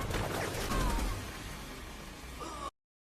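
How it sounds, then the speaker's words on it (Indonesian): An attacking helicopter in an action film fires on targets, producing loud rapid bursts of gunfire and explosive pops with a whooshing rush, dense at first and easing before cutting off abruptly. "Yang akibatnya Donnie tewas dari serangan gempuran helikopter yang menghunjani mereka berdua dengan tembakan."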